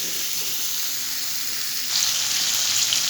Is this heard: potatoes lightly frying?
yes